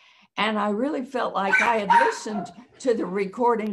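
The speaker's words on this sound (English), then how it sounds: "Excuse my dog." A pet dog barks in the background during an interview, its yips partly buried beneath steady close-up talking.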